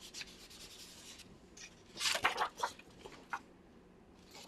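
A thumb rubbing colour onto paper, a few soft dry scuffing strokes in short bursts, close and quiet.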